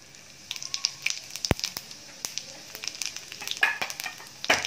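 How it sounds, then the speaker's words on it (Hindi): Cumin seeds dropped into hot oil in a home kitchen pan, a faint steady sizzle with scattered crackles and pops, one sharp click, close and quiet. "तेल गरम हो गया है, अब हम इसमें थोड़ी सी जीरा डालेंगे।"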